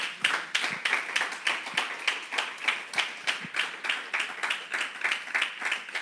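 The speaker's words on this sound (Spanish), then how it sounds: "Dale un aplauso al Señor" A church congregation gives a round of applause to the Lord during a Spanish-language sermon, steady rhythmic clapping from many hands sustained at moderate loudness throughout.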